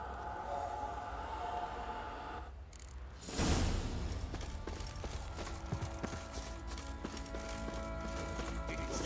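Horse hooves clip-clopping on the ground in the video game The Witcher 3: Wild Hunt, a steady rhythmic trot heard among other game sounds with a short loud burst partway through.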